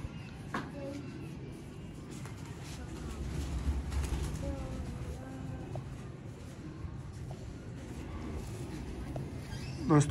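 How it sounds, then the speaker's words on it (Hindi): Sialkoti silver-feathered rooftop pigeons cooing softly in low repeated calls over steady background noise, with someone talking nearby. "ये सिल्वर पल्लो वाले कबूतर हैं।"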